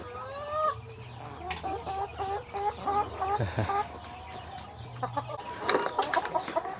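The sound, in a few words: backyard cage-free chickens clucking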